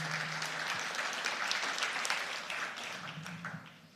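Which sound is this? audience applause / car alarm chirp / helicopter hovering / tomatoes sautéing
audience applause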